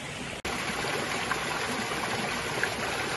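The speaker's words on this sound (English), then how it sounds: "It's full of fountains here." Water runs continuously from the fountains of L'Aquila, a steady outdoor rush and splash heard at moderate distance, with a short dropout early on.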